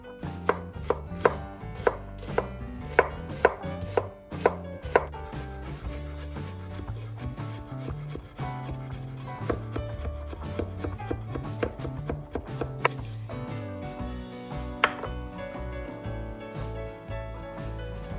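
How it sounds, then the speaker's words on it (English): A knife chops onions, garlic and fresh basil on a cutting board in quick, close, steady knocks that run evenly throughout, with no talking. "Finely chop the onions, mince the garlic, and roughly chop the fresh basil."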